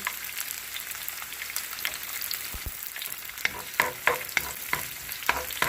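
Onion, ginger and garlic stir-fry in a pan for a chicken curry, a steady close sizzle broken by scraping stirs and clicks of the utensil.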